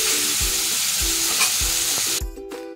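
Koi fish sizzles steadily in a hot frying pan for a curd-based koi curry as it is turned over, with soft low knocks from the spatula about once a second. The frying noise thins out briefly near the end.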